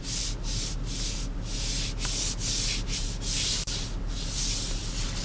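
Leather-wrapped steering wheel of a 2015 Dodge Durango rubbing under the hands while turning, a loud, close, steady scuffing that swells and fades in repeated strokes with no talking.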